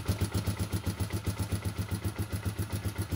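A Euro Hari 125 motorcycle engine idles steadily up close, its even, rapid putter pulsing without pause and with no one talking over it.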